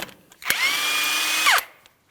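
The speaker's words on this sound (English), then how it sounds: "Let's remove our 22mm lug nut." An impact wrench removes a 22mm lug nut from the front wheel of a 2007-2014 GMC Sierra 2500 HD, one sharp whirring burst of about a second, close and loud, with a clack at each end.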